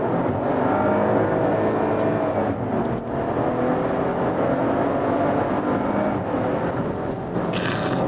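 A Maserati Quattroporte Ermenegildo Zegna Pelletessuta sedan with its engine working through manually selected gear shifts, a continuous loud roar that rises and dips as the revs change, with no talk over it.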